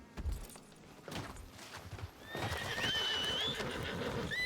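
Horse in a Gold Rush roleplay video game neighs loudly with a shrill, wavering whinny in the second half, after scattered hoof clops and soft bumps.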